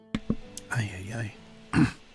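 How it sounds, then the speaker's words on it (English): A man clears his throat on a live hobby chat stream, with a couple of short rasping catches and then a longer throaty rumble, close to the microphone. "I gotta clear my throat again."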